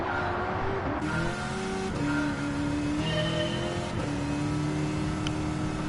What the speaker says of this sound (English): So 900 horsepower Hellcat